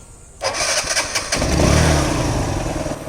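A TVS Metro 100cc motorcycle fitted with a lithium iron phosphate battery cranks briefly, then its engine catches and settles into a steady close idle.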